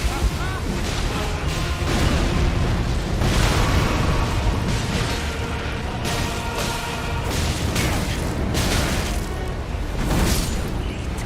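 Repeated booming explosions from the video game Elden Ring, loud and dense across the whole stretch, with bursts and crackling blasts layered under someone talking.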